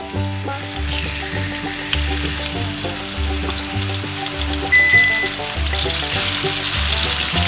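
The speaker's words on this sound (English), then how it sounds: "We're gonna add the venison to it. Just plop it in the oil." Venison chops sizzle and fry in hot oil with herbs and garlic in a pan, a loud continuous crackling sizzle close up, with music playing underneath and no talk.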